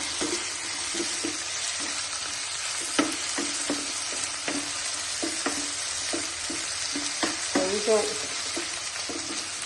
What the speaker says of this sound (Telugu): వేగిన తర్వాత మిరపకాయ కూడా ఇదిగండి అట్లా వేగింది